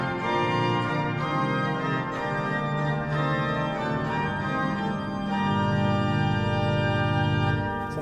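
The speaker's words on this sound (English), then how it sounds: "And of course, a mixture," Sounding alone, the mixture stop of the Hinsz pipe organ in the Bovenkerk at Kampen fills the space with dense, bright chords held and moving over a sustained low note, loud and continuous throughout.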